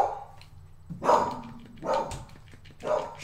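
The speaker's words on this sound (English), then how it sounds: "there goes Little Pup barking at something." A small dog barks three times in short bursts, fairly near, over steady background noise from a Sega 32X fighting game.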